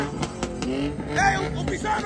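A Chevrolet Tahoe at a car meet revs up for a burnout attempt, engine pitch climbing in short bursts, with people talking and shouting close by.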